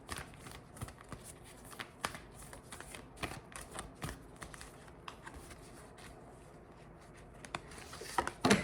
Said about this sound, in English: I'm going to go ahead and pull some oracle cards for you guys